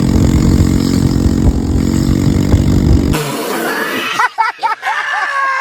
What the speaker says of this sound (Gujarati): મેં કોઈ દી ગાડી સાયલેશન વગરનો અવાજ સાંભળ્યો જો તમને સંભળાવો